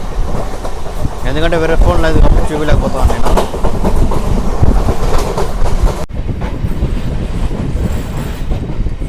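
A Renigunta to Nellore MEMU passenger train runs at close to 100 km/h, its loud continuous rumble and rhythmic clickety-clack of wheels on rails heard from inside the coach, with someone talking over it.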